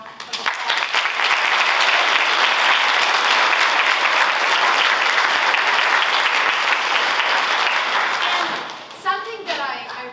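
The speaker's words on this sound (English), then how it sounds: "So I think I'd give them another round of applause." A school audience at an orchestra demonstration concert claps for about eight seconds, a loud, dense, sustained wash of many hands that fades out, followed by brief talk.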